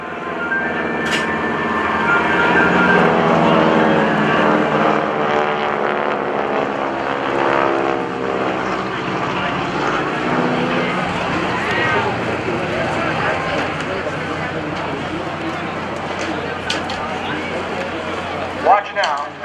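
Propeller aircraft of the GEICO Skytypers team maneuvering at a 2014 NAS Oceana airshow, a loud sustained engine drone that swells and shifts in pitch as the planes pass, with crowd and announcer voices underneath.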